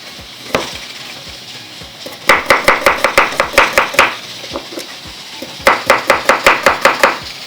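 A knife chops small onions on a board in two quick, loud, evenly spaced bursts of sharp strikes, with a few isolated chops in between.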